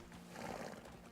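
A horse in the Crimson Desert video game gives a short whinny lasting about a second, with game ambience around it and no talk.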